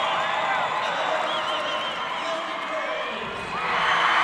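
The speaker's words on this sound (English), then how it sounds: "South Sevier comes in as the number 3 seed to a roar of the crowd" A packed arena crowd at a 2A girls basketball championship between South Sevier and North Summit at the Sevier Valley Center roars with sustained cheering and whoops, swelling louder at the end.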